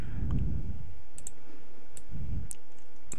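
Computer mouse clicks during spreadsheet work, a few sharp isolated clicks spaced apart over a low background rumble, no speech.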